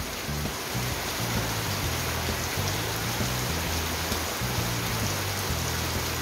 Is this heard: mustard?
no